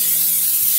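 Cooking spray hissing from a can onto a casserole dish, one continuous close, bright spray lasting under a second.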